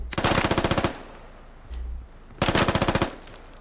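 Automatic gunfire in the video game SquadOps: two sharp rapid bursts of rounds, loud and close, separated by a brief low thud.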